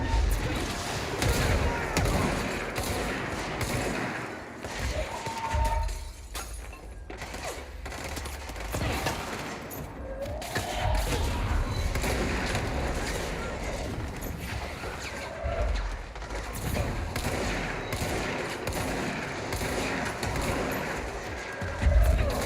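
Gunfire in an Indiana Jones video game, a dense, continuous barrage of shots and action noise over more than twenty seconds, loud and busy, with a few short gaps and a voice speaking at points.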